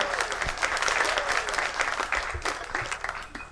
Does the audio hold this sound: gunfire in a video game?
no